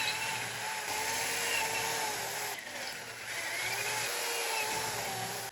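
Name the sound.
drilling holes in steel flat bars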